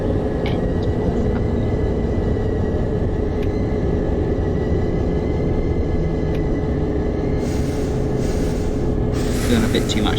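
A Class 67 locomotive hauling Mark 3 coaches on the Newport to Abergavenny run in the OpenBVE game, braking as it nears a platform: a steady low rumble throughout, with a brief hissy burst toward the end.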